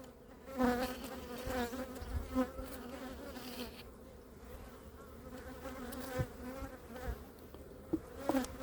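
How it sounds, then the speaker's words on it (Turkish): A honeybee colony buzzes inside a hive during winter balancing work, a dense, wavering hum close by with bees droning around it and occasional light knocks. "Bakın kıştan iki çıta çıkan bir arı bu."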